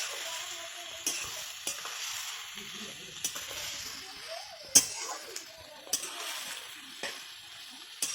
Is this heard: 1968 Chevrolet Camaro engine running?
no